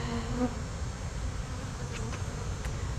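Honey bees buzz around their hive, making a steady, close, continuous hum with no talking.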